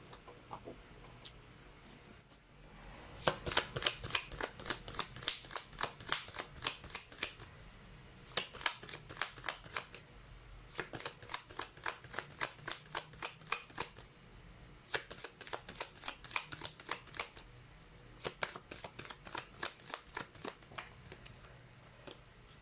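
A deck of tarot cards is shuffled in repeated riffles, each a quick run of crisp clicking flaps, close and distinct, with short pauses between rounds and no speech.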